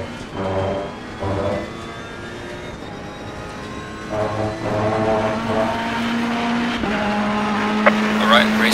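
Race cars at Silverstone in Assetto Corsa Competizione, engines rising and falling in pitch through gear changes, with a sustained high engine tone toward the end and a brief squeal near the close.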